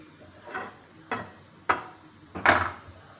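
Knife chopping onions or vegetables on a cutting board for Kerala bread upma, four separate sharp thuds spaced about half a second apart, growing louder toward the end, with no talking.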